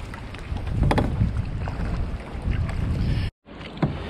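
Kayak paddling on El Nido lagoon, with steady water movement and wind buffeting the microphone throughout and a soft splash near the end, broken by a brief dropout.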